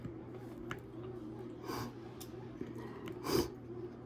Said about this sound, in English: It's like you're sniffling.